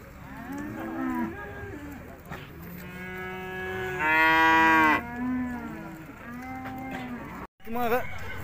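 Cattle at the Urzhar livestock market bellow in loud, drawn-out moos, several overlapping calls with one long, strong bellow in the middle, over a noisy crowd background with faint voices.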